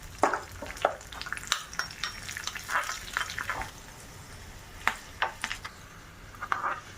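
Mustard seeds sputtering and crackling in hot oil for tempering a besan gojju, with scattered sharp pops and light clinks of a spoon against the pan over a steady background hiss.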